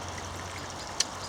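The River Hiss flowing near its source in the countryside around Great Offley: a soft, continuous outdoor trickle and wash, faint and steady, with one brief click.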